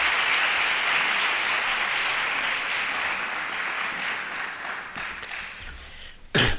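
Sustained applause from an audience after a short thesis presentation, broad and steady at first, thinning toward the end, with a brief loud clatter close to the microphone just before it stops.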